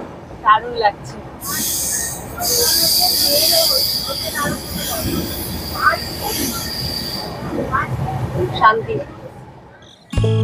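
Inside the moving Howrah–Bengaluru Duronto Express at sunset, nearing Bhubaneswar: a steady rail rumble with a long, piercing wheel squeal in the middle and scattered clunks, while a person speaks briefly over it.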